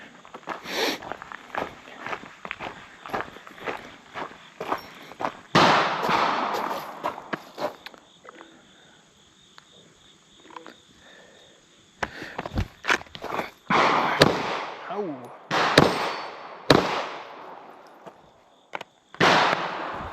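Sharp gunshots crack out at a shooting range, a scattered series of loud close reports with quieter gaps and some handling noise between them.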